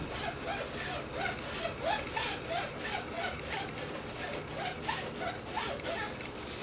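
Straight razor stroked back and forth over a hone with taped spine, giving steady rhythmic scraping strokes, close and moderately quiet, with no voices.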